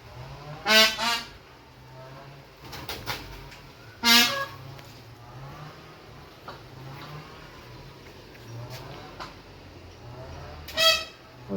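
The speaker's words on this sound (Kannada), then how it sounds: "ಆದರೆ ಆ ನವಿಲು ವಿಚಿತ್ರವಾಗಿ ಕೂಗ್ತಿದೆ" A peacock gives odd, strained calls near a house at evening: three loud honking cries spread across the stretch, with fainter calls and quiet background between them and no speech.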